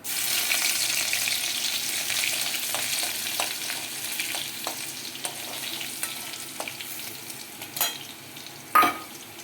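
Crushed garlic hits hot oil with cumin seeds, hissing in a bright, steady sizzle that slowly fades, punctuated by a few light stirring taps and a louder clink near the end.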